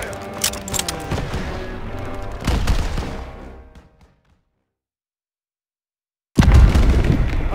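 Battlefield gunfire in the World War II shooter Call of Duty WWII: loud, dense rattling bursts and booming impacts that cut to near silence, then resume abruptly at full force.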